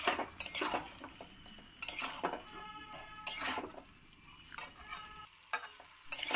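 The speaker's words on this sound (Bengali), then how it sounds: "তো ভালো করে দেখো আমি মিক্সড করে নিচ্ছি।" Jackfruit, potato and prawns are stirred and fried in a pan with spices, giving a steady sizzle broken by repeated scrapes and clinks of a spoon against the pan, close and fairly quiet.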